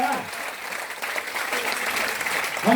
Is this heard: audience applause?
yes